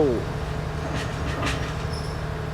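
Thai railway GEK 4045 locomotive hauls its train over switch number ten, a steady low rumble of rolling wheels with scattered light metallic clicks and squeaks from the points.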